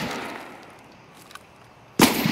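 A loud burst of gunfire from an enemy player in a video game hits abruptly near the end, following a quieter stretch with only faint background noise.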